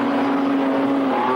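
Speedway modified race cars lapping an oval track, a loud steady engine roar with a sustained buzzing tone, close and unbroken for the short stretch.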